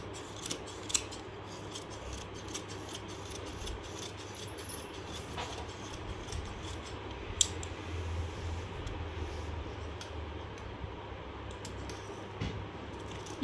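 Scissors cutting through dress fabric folded four layers thick while a garment is cut out, a steady close run of soft snipping and rubbing, with no voices.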